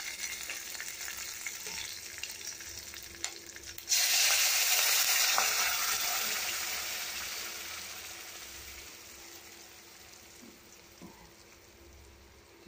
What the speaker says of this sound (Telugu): అది పోపుని వేసేద్దాము.